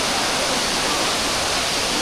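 Tumpak Sewu waterfall in Indonesia roars as a steady, dense broadband rush of falling water, loud and unbroken throughout with no distinct events.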